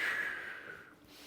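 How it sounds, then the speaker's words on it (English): A single long, deep breath drawn in and slowly let out, close and fairly soft, with no talking over it. "do 10 of those, 10 big deep breaths"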